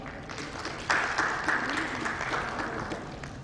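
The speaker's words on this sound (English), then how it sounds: "A round of applause, Mr." An audience at a healthcare summit in Rajasthan claps in a steady round of applause that swells after the first second and continues, with a voice faintly under it.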